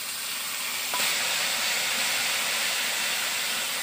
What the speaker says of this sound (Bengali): একটু ভালো করে মশলাটা ভেজে নিতে হবে।